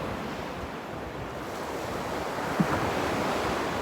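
Ocean waves wash steadily onto a beach with clear water. The surf makes a continuous broad roar mixed with wind buffeting the microphone, and one small bump sounds partway through.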